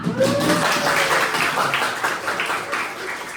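An audience claps together as a newcomer joins the front, a dense steady patter of hands at moderate level that thins slightly toward the end, with no talking over it.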